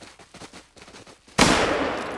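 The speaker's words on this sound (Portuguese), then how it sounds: "Nice shot." Rifle shot in the hunting game theHunter: Call of the Wild, one sudden loud blast with a long rolling echo after quieter footsteps and rustling.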